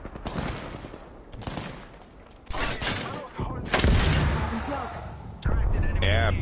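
Gunfire in a multiplayer video game, bursts of rapid shots and heavy blasts at close range, loud and dense in stretches, with a voice talking over part of it.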